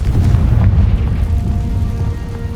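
A Confringo explosion spell goes off in a Harry Potter video game as a loud, rumbling boom that rolls on for over two seconds, close and dense, with no talking.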